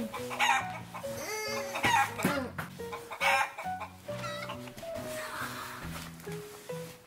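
Chickens cluck and squawk in a busy, close chorus with a rooster-like crow among them, the calls overlapping in uneven bursts throughout.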